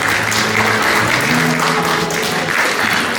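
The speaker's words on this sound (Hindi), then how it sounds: "एक बार सबके लिए, सभी अतिथिगणों के लिए जोरदार ताली।" An audience at a college New Year celebration claps loudly for the guests, a dense, steady round of applause lasting throughout.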